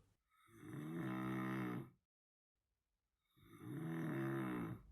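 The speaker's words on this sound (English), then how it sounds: "That faint rumbling sound. Oh, yes. It sounds like a giant snoring." A giant's deep, rumbling snores, two long drawn breaths separated by a pause of silence, steady and fairly faint.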